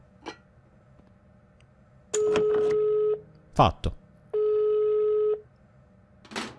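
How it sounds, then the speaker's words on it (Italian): A telephone in the Evil Nun mobile game sounds off with a quick click of dialing followed by two long, steady electronic ring tones separated by a pause, with someone speaking briefly between them. "Qua c'è un telefono, perfetto. Posso chiamare?"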